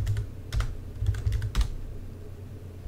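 A password goes in on a computer keyboard as quick, light key taps in small clusters, with brief pauses between them, close and fairly quiet over a low background hum.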